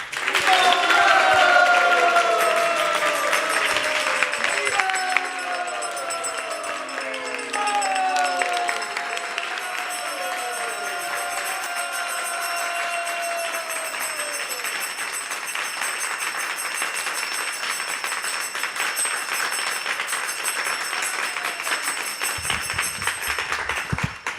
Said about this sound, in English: a very, very loud, warm applause for Radhika Raman Prabhu.